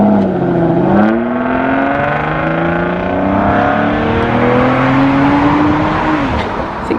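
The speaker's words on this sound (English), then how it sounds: "I think that's a V12 actually" A V12-engined car pulls away from a Cars and Caffeine meet at Combermere, its engine revving hard in rising, sweeping pitches that climb steadily and hold loud and close throughout.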